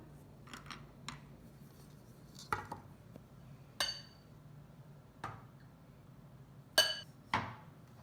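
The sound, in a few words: packing turmeric powder down into capsule-filling tray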